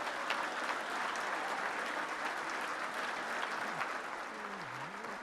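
Sustained applause from a brunch audience at a Victory Fund event for a New York City Council Speaker, steady and dense throughout, with faint crowd murmur underneath.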